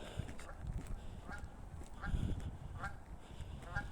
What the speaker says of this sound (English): If you listen to the geese, they seem a little bit spooked or a little bit boisterous than usual.